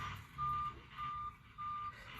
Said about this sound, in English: here comes another dump truck here